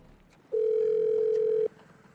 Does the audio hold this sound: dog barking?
no